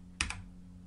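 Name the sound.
pressing a key on a computer keyboard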